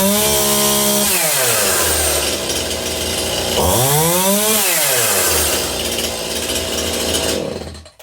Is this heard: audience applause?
no